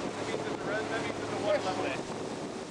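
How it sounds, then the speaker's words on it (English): Speedboat crossing lake water toward a dive site near the Panjiakou dam, a steady engine and hull rush buffeted by heavy wind noise on the microphone, with faint voices beneath. "we were hauling gear onto a speedboat and climbing aboard ourselves"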